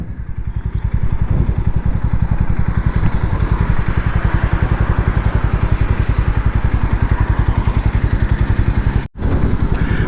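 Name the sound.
Harley-Davidson X440 motorcycle exhaust note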